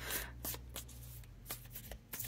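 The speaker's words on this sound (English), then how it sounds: "I'm just shuffling. Hold on. I've got the lovely zombie tarot." Zombie tarot cards are shuffled, a few soft riffling bursts and flicks spaced irregularly over a low steady hum, close and quiet.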